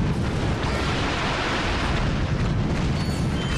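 Explosions from the R.Y.N.O. weapon in Ratchet & Clank HD form a dense, continuous roar of overlapping blasts, loud and sustained throughout with no pauses.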